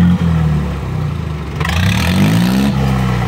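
A tractor engine fitted with an aftermarket silencer revs hard with a deep, tank-like rumble, close and loud, rising in pitch as it climbs through the throttle.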